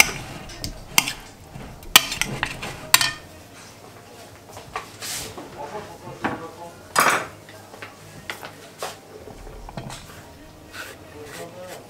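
Red onion and cheddar are mixed in a dish with a utensil, making a scattered run of sharp clinks and scrapes against the dish, several louder knocks near the start and middle, all close by.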